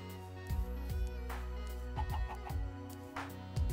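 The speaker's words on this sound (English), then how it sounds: "Alright, chickens. Come over here." Minecraft chickens cluck in short, scattered bursts over a steady low hum, moderately quiet and close by, with no talking.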